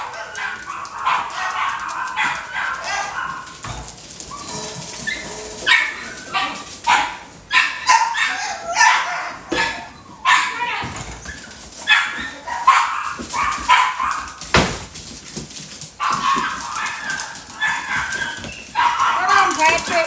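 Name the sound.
dog barking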